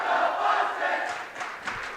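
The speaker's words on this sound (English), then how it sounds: "As the crowd's getting into their chants." Crowd at a high school girls' volleyball match, HF against TF North, chanting together in a loud, steady roar of massed voices that holds for two seconds before easing slightly.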